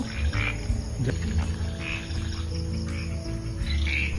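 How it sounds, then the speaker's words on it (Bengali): Frogs croak in a steady low chorus, with a higher trilling insect-like buzz coming and going, outdoors at night, no voices. "এই যে আপনারা হয়তো ভিডিওর মধ্যে ব্যাঙের ডাক শুনতে পাচ্ছেন"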